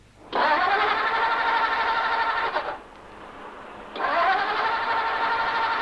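A car engine cranks in two long bursts separated by a short pause and fails to catch, the starter motor grinding steadily each time with the choke pulled right out.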